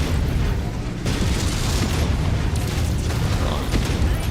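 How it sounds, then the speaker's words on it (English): An ammunition explosion in the mech combat game MechWarrior 5: Mercenaries produces a dense, sustained roar of blast noise with rumbling mechanical texture. It fills the whole four seconds at steady high volume, with no distinct separate bangs. "Ammo explosion detected."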